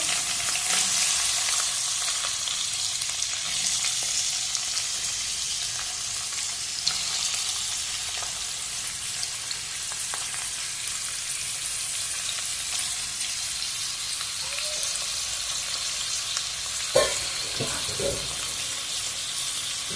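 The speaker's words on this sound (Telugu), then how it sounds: "ఇప్పుడు క్యాలీఫ్లవర్ని నూనెలో కొంచెము సేపు వేయించుకున్నాము" Cauliflower florets frying in hot oil, a steady close sizzle that runs throughout with occasional stirring clinks.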